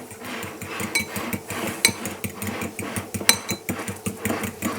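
Brown eggs and chunky ingredients whisked hard in a bowl for a bacon and egg burrito, a fast busy clatter of whisk against the bowl repeating steadily throughout with occasional sharper clinks.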